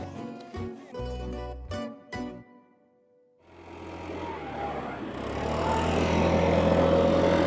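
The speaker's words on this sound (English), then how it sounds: "Why are they using a leaf blower in May?" A leaf blower builds to a steady motorized drone and holds it, loud and close, outdoors, after a few seconds of clattering and quieter noise.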